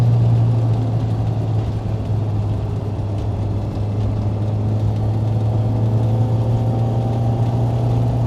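A Toyota AE86 with a 4A-GE engine and six-speed manual drives a mountain road, its engine a loud, steady drone heard from inside the car throughout, with no clear rev changes and no talking.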